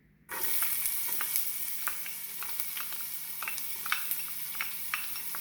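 A quarter cup of onion hits warmed olive oil in a pan, and a sudden loud sizzle breaks out and keeps crackling steadily, with small pops and spatters scattered throughout.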